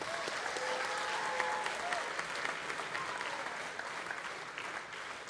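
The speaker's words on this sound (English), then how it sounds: "Let's give one more round of applause to all of them." A crowd at the Mr. Battleground 2019 charity event applauds in a long, even wash of clapping, sustained and moderately distant, with faint voices and a brief tone early on.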